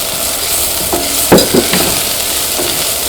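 Turmeric powder frying with chicken masala in a pan, a steady loud sizzle with a few scraping stirs of a spoon against the pan, close up.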